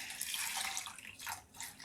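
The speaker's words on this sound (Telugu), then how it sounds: "ఇట్లా నీళ్ళు వేసి" Water is poured over chana dal in a bowl to soak, making a soft, splashy trickle that swells and fades in brief surges. It is faint and close, with no talk.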